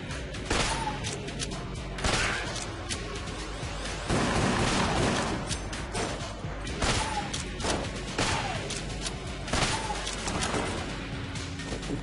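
Rapid gunfire in the video game Enter the Gungeon, repeated bursts of shots and impacts layered over game music, continuous and loud with periodic heavier blasts.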